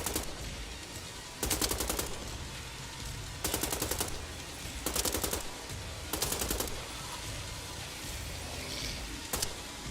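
Bursts of automatic gunfire in a shooter video game, four rapid rattling volleys of about a second each at regular intervals over a steady background of game ambience, then a final short burst.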